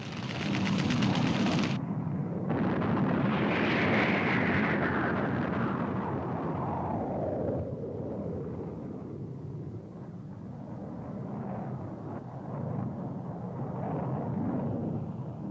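Wartime airstrike soundscape from the Vietnam War, with a loud continuous roar of aircraft and explosive rumble that sweeps downward in pitch, followed by sustained heavy low rumbling, dense and up close with no talk.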